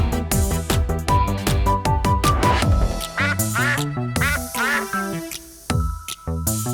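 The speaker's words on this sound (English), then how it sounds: "Who says quack, quack?" A sung or synthesized duck-like quacking in a children's nursery song over a bright, busy musical backing, repeating in short bursts throughout.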